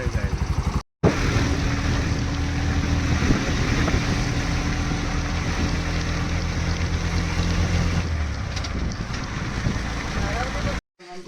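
A bus engine rumbles close by on arrival, a steady heavy drone that carries on throughout with wind noise and brief dropouts, while people talk over it.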